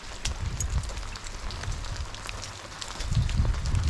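Steady, dense heavy rain pouring down in Spain, a continuous hiss with patters and drips, no voices.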